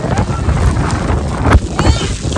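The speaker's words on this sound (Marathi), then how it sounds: "तुम्ही बघू शकता एकदम सोसाट्याचा असा वारा सुटलेला आहे." Strong, gusting wind buffets the microphone on an open mountain plateau on the trek to Harishchandragad fort, a loud, continuous roar with sharper bursts throughout.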